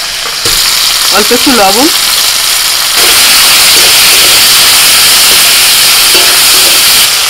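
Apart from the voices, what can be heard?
tomato pieces frying in oil in a pan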